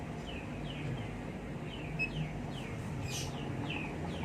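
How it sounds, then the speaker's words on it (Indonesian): Sick chicken with a respiratory condition, faint repeated clucks and short calls over a low, rough background hum, moderately distant and fairly quiet. "Kasihan kalau ayam ngorok."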